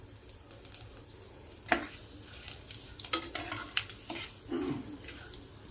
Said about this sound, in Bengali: জিরে ভাজার একটু গন্ধ বেরোবে, সেই পর্যন্ত আমি একটু নাড়াচাড়া করছি